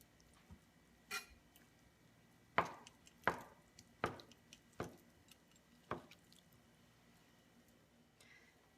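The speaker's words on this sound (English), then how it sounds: "And then we're going to cut it into bite-sized pieces." A knife cuts tofu into bite-sized pieces on a cutting board, giving about seven distinct, fairly close chopping taps at an uneven, unhurried pace with quiet pauses between them.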